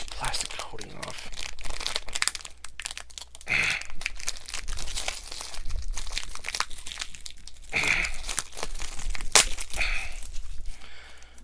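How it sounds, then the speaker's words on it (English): Plastic wrap crinkles and tears in repeated close crackling bursts as it is peeled off a paperback book, with a person talking and sighing in between. "Now I get this plastic coating off."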